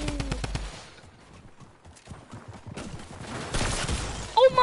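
Video game gunfire rattles in rapid bursts, loud sharp shots at the start, then scattered quieter pops before heavier firing builds again near the end, with faint game sounds underneath.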